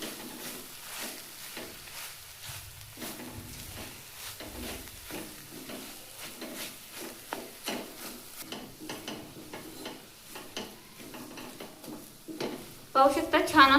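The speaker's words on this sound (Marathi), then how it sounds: "तर आता आपण व्यवस्थित भाजीमध्ये बटाटा मिक्स करून घेऊया." Boiled, lightly salted potato is stirred into a vegetable mixture in a pan, with soft repeated scraping and faint sizzling, rising to louder clatter near the end.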